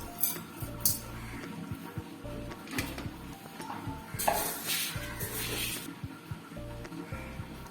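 Raw rice is scooped and measured with a condensed milk tin while making appam, giving close, intermittent metallic clinks, rattles and scrapes in an otherwise quiet kitchen.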